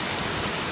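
Heavy rain falls during high winds, a dense, loud, steady roar of water pounding surfaces close by, with no voices.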